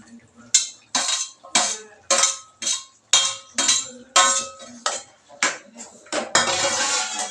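A metal spoon clinks and scrapes repeatedly in a cooking pot of pigeon pea curry with potatoes, in a quick irregular series of loud, near knocks, ending with a pot lid set down.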